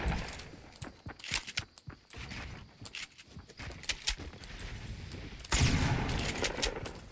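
Rapid gunfire from a shooter video game, with a spray of sharp shots in the opening seconds, scattered reports in the middle and a louder, denser burst near the end, with no talk over it.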